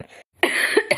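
A single close, loud cough, a harsh burst followed by a short second rasp after a brief silence.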